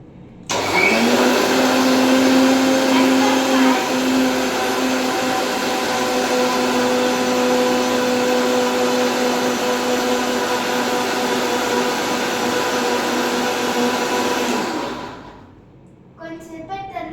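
A mixie (mixer grinder) blending skimmed milk in its jar, a loud steady motor whine that runs for about fourteen seconds and then winds down, with no talk.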